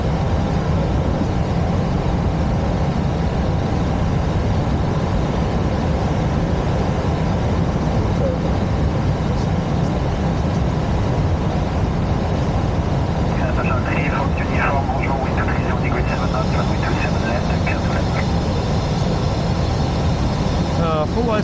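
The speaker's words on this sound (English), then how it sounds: "I have the video of the landings, today's landings in Charles de Gaulle Airport" An airliner lands at Charles de Gaulle Airport, heard as a loud, continuous, broadband engine and airflow roar that holds steady throughout, with some faint tonal whine emerging toward the end.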